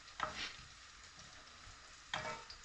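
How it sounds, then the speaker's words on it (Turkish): Carrots and onions sautéing in a pot for a leek dish in olive oil, with soft stirring scrapes and bursts of sizzle near the start and again toward the end, close and fairly quiet. "2-3 dakikada havuçlarımızdan beraber soğanlarımızı kavuralım"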